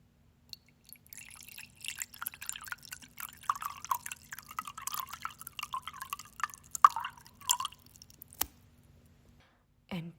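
Water dripping and splashing into a large pan as it is filled, a close, quiet run of small irregular drips and trickles with a soft low hum beneath, ending in a couple of sharper knocks.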